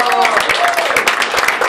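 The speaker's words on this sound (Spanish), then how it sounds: "quiero pediros un pequeño aplauso" Small round of applause from a podcast audience at a live podcast-and-beers presentation, dense rapid clapping sustained and fairly loud throughout, with some voices mixed in.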